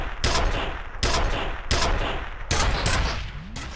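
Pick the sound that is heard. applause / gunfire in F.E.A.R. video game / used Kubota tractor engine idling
gunfire in F.E.A.R. video game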